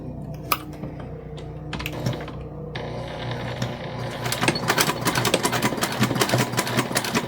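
A sewing machine stitches a bag together, starting with a few short bursts and soft clicks, then running in a fast, continuous, close rattling drone.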